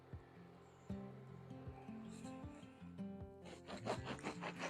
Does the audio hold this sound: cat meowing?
no